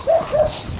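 A dog gives two short, high yelps or barks in quick succession at moderate distance, in a village setting, with faint background noise and no talking.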